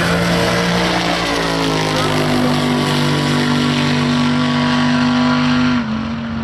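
A drag racing car on the track at the Nostalgia Drags at Townsville Dragway gives a loud, steady engine drone that holds one pitch before shifting and fading slightly near the end.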